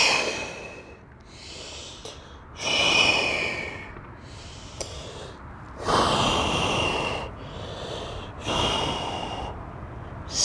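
Audible breathing during an Ashtanga yoga forward bend outdoors at the Golden Gate Bridge in San Francisco: a series of about seven deep, snorting nasal breaths in a slow steady rhythm, close to the listener and unaccompanied by speech.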